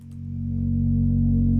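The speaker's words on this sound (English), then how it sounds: "So now we have the volume fading in and the volume fading out." Calm meditation music with a steady low drone and sustained tones, rising gradually in volume from quiet to full over a couple of seconds.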